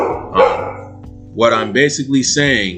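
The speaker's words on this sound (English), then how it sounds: "pardon the dogs for actually barking" Dogs bark indoors at a house, a few sharp barks rising under and between a man's ongoing speech, moderately close.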